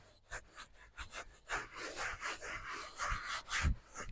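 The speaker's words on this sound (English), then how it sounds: "This is where the elbow grease comes in, because you are scrubbing and swirling and getting it in there." Leather is scrubbed and swirled by hand as moisturizer is worked into it, giving uneven rhythmic rubbing strokes that swell and fade close up, with no talking.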